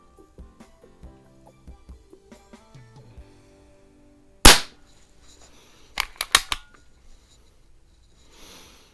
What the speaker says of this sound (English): It's not a bad sounding Springer at all, especially with the amount of power it has.